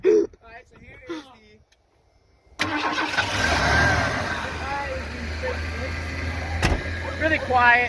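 A Ford F-Series truck engine cranks and catches after a few spoken words and a short silence, then idles and revs with a steady rumbling drone that grows a little louder, with brief talk over it.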